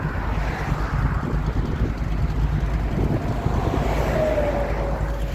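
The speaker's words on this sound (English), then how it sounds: "You are beside an active freeway." Traffic on an active freeway roars past in a steady low rumble, close and loud, with wind buffeting the microphone and a faint rising whine from a passing vehicle near the end.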